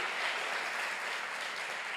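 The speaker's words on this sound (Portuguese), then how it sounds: "Aplauda ao Senhor pela palavra, aplauda bem forte, dê a melhor palma que você pode aí a Jesus" Church congregation applauding to the Lord during a Portuguese-language sermon, a steady wash of many hands clapping throughout at moderate loudness, with no voices over it.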